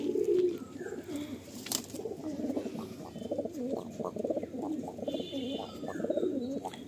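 Madrasi pigeons cooing in a loft, a steady overlapping chorus of low throaty coos repeating throughout at moderate loudness, with faint chirps above.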